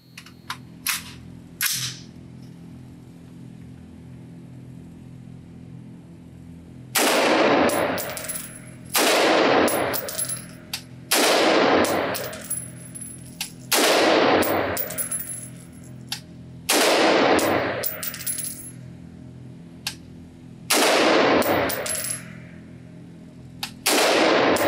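A Springfield Armory Saint AR-15 rifle fires 30 rounds at an IDPA target from 25 yards on a shooting range, in loud, close, sharp bursts of shots separated by brief pauses.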